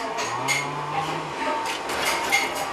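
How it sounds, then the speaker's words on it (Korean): A hammer strikes hot metal during the forging of a Korean ho-mi hoe, giving several quick, close metallic clanks and ringing taps in an uneven rhythm. "칭찬에 힘입어 망치를 열심히 두드리는데 아직 어렵습니다"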